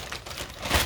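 A brief crinkle of a plastic zip bag being pressed and sealed over seasoned chicken wings, close and soft, ending in a slightly louder rustle.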